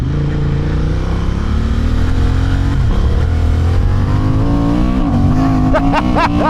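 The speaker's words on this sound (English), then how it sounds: "It does sound good, that intake snarl" Honda Hornet 750 motorcycle accelerating hard, its intake snarling loudly and continuously with engine pitch climbing through the revs and sharp rising sweeps near the end.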